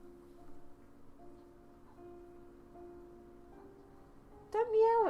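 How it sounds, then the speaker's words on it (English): A cat lets out a single curved, drawn-out meow near the end, loud and close, after several seconds of quiet steady background hum. "Don't meow at me."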